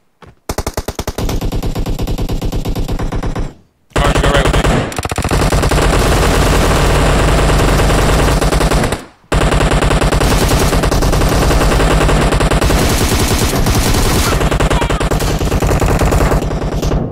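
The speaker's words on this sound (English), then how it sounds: "there's a lot of gunshots" Dense, rapid gunfire from an online team deathmatch shooter game, loud and nearly continuous bursts of automatic fire with two brief gaps of silence.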